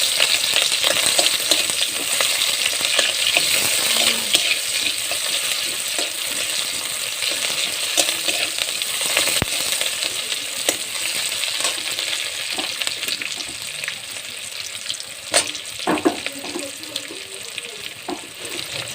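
Large chopped onion frying in a pan for ghugni, a loud continuous sizzle with occasional scrapes and knocks of a stirring spoon, close-up and steady, with no talking.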